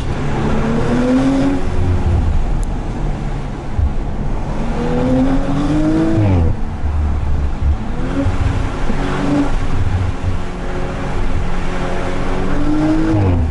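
A 2018 Audi RS5 fitted with an aftermarket exhaust revs hard through repeated rising acceleration runs and gear changes, loud and close from inside the car, its engine note climbing and dropping.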